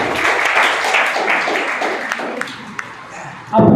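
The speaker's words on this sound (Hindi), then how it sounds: "एक बार सब अपने अपने लिए ताली बजा लीजिए" Audience at a Nurse's Day celebration at a nursing institute and hospital clapping for themselves, a dense patter of hand claps that gradually thins out before a sudden loud burst at the end.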